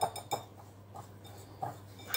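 Pudding batter with apricot jam being mixed in a bowl, a few soft clinks and scrapes of a utensil against the bowl at irregular intervals, quiet and close with near silence between.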